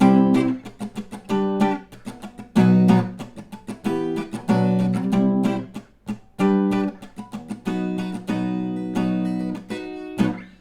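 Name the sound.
acoustic guitar strumming song chord progression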